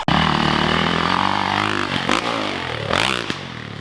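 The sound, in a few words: dirt bike riding on backyard motocross track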